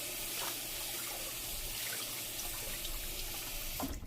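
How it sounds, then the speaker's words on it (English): Tap water runs steadily onto a kitchen sponge at a sink, a continuous close hiss and splash with a brief bump near the end. "Let's go ahead and get some water on the sponge"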